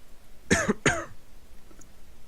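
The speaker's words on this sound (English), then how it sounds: "What was that coughing?" Two sharp coughs in quick succession, close by, followed by quiet.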